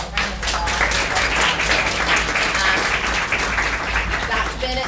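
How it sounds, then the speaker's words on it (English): An audience applauds a student panel at an Enactus leadership talk, loud, dense clapping over a low steady hum, with voices mixed in. "let's give our panel a round of applause"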